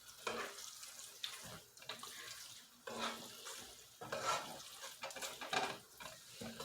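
A spoon scrapes and stirs meat in a pan in repeated uneven strokes, close and fairly quiet, with a soft sizzle underneath and no talking.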